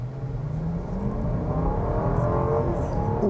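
A 2021 Jeep Grand Cherokee L three-row SUV with its V8 engine pulls hard from inside the cabin, a steady loud rising engine drone and road roar building throughout.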